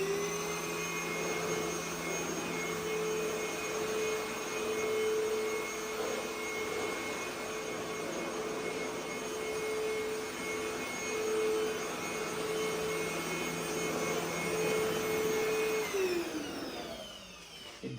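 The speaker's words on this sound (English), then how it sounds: "So this is the HOMPANY H18 vacuum." A HOMPANY H18 cordless vacuum cleaner runs steadily with a constant high whine and hum close by, then winds down at the end.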